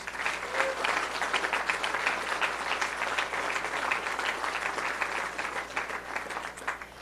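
A crowd at a 2018 election victory speech gives a sustained round of applause, dense and even clapping from many hands throughout, moderately loud and a little distant, with no voices standing out.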